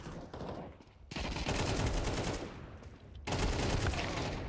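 Gunfire in the video game Counter-Strike 2, two loud sustained bursts of rapid shots separated by a brief lull.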